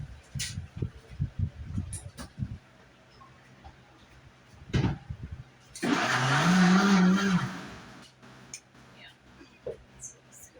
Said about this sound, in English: Put this back in the blender real quick.